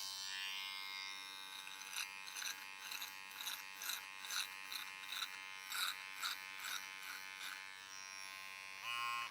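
A USB-rechargeable cordless body trimmer with its guide comb removed buzzes continuously while cutting hair, its motor note pulsing in short, regular bursts as it bites into the hair, then ending in a brief louder whine.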